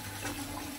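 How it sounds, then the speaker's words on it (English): Cool tap water runs steadily over freshly boiled eggs in a kitchen sink, a quiet continuous splashing rush with no voices. "Run some cool water on them."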